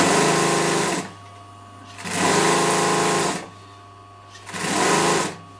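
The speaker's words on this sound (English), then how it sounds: "Now I'm going to sew a seam, half-inch seam," Sewing machine running a half-inch lock-stitch seam along a cushion top panel, heard as three steady whirring bursts, each about a second long, separated by short pauses, close and fairly loud with no talking.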